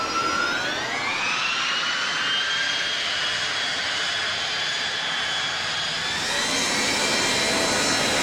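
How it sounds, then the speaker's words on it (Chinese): A DC-10 jet airliner rolls down the runway on its takeoff run, engines roaring steadily with a rising whine, loud and sustained with no voices. "跑道上的 DC-10随后开始滑跑起飞"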